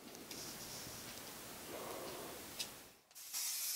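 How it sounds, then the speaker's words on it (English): Silver aerosol spray paint hisses in light fogging bursts onto an antique sewing machine, a soft continuous spray, then a brief pause and a sharper, louder burst of spraying. "Spray very light fogging coats, waiting a minute between each one to let it dry."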